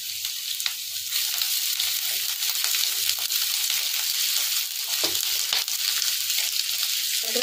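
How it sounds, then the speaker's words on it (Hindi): Finely chopped ginger fries on a high flame for a restaurant-style cabbage Manchurian, giving a steady, loud, broad sizzle with occasional stirring scrapes and no voices. "अदरक को भी हमने ना हल्का सा ही भूनना है।"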